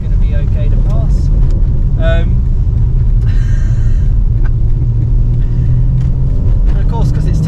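A 2023 BMW M3 xDrive's turbocharged engine drones loudly and steadily from inside the car on a North Wales road, with a continuous low rumble and road noise throughout.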